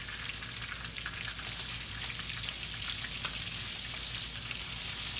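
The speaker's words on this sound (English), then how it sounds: "While those cooking, I'm going to put the rest of my catfish in here. Get it cooking off." Catfish fries in hot oil for crispy tacos, a dense, even crackling sizzle that holds steady and close throughout, with no talking.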